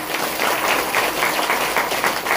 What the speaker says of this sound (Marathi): या लेकरांसाठी टाळ्या वाजवा